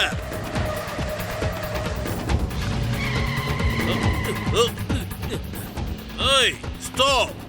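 A cartoon car speeds off, its engine revving as the tires squeal and skid in several sharp bursts near the end, while someone shouts over it.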